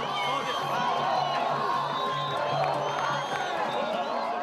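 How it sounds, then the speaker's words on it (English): A large crowd in Cairo, Egypt shouts and screams continuously, a dense roar of many voices with cheering and whoops, steady and loud throughout the clip. "In Cairo, Egypt, the crowds are shouting and screaming"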